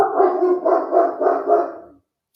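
A big year-old dog barks loudly and close by, four or five deep, steady barks in a quick even rhythm, then silence.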